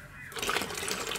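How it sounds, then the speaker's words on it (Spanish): Water pours into a pitcher of banana and milk drink, a steady splashing gush that starts after a brief quiet moment and continues evenly to the end. "Le vamos a colocar agua"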